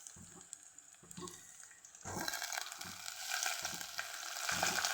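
Rice is sautéed with garlic and coriander in a pan, first as soft stirring scrapes and then as a louder, continuous frying sizzle with repeated stirring.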